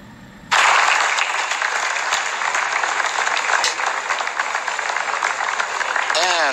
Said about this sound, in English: you heard the applause from the people in Jupiter